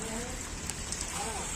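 Rain falls steadily in a continuous soft hiss, with a few faint individual drops standing out briefly.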